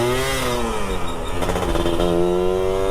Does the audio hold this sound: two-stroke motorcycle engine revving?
yes